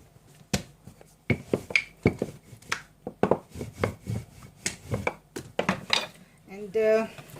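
A cutter clicks and taps repeatedly against a board while rolled dough is cut into flower-shaped nimki, an irregular run of close, sharp knocks with a brief scraping rasp at the end.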